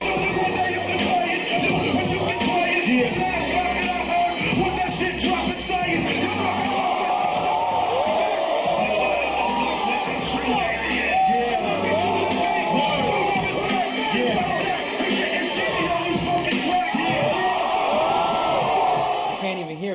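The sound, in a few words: crowd screaming and cheering at freestyle rap event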